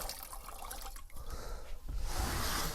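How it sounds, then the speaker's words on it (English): A wet sponge is squeezed and wrung out, releasing a rushing trickle of water that swells louder toward the end, close by. "I'll wring it out so it doesn't drip all over my table."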